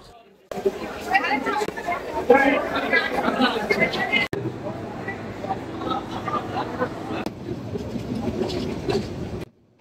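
The Mohanagar Express passenger train, on its Dhaka to Chattogram run at night, takes a long curve after Airport station, with loud continuous wheel rumble and clatter and brief squeals, heard from aboard with voices chattering throughout.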